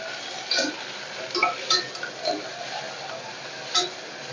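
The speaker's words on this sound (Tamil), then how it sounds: "ஒரு தக்காளி வதங்கட்டும்" Tomato sautéing in a pan for a thandu keerai kootu: light clinks and taps of a spoon against the pan over a soft, faint background hiss, with irregular stirring strokes.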